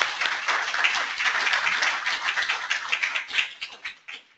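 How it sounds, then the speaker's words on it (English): A modest room of attendees at a professional environmental training session claps for the presenters, a brisk patter of individual hand claps that thins out and fades over a few seconds. "Could I get a round of applause for the presenters?"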